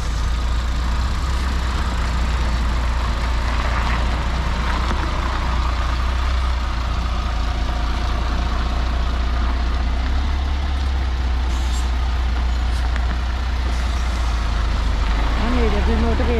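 A truck engine rumbles steadily, close and loud, as the vehicle maneuvers at a tree-felling site in the Harz to collect felled trunks, with faint higher clanks and beeps.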